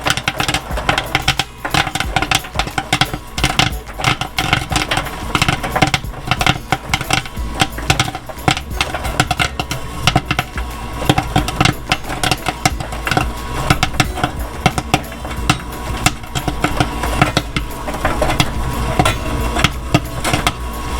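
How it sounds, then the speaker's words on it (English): A theater popcorn machine pops at full pace, loud dense crackling and rattling kernels over the continuous whir of the kettle's stirring motor. "Really starting to pop now. There it goes, starting to really pop now."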